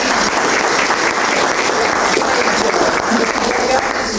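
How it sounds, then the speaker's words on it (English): Steady, loud applause from a crowd gathered for a homelessness sleepout event, sustained clapping throughout with no pauses. "give yourself a round of applause and enjoy it"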